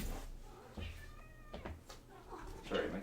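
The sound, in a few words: cat meowing behind a closed door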